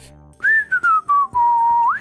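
A game character in Ace Attorney: Spirit of Justice whistles a short melodic tune, a clear loud whistle sliding and wavering through several notes in quick phrases, with no talking.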